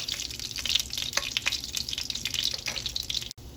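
Whole spices (cardamom, cinnamon, bay leaf, cloves) and fennel seeds fry in hot oil for a mutton chops gravy, giving a steady close crackling sizzle with small stirring scrapes throughout.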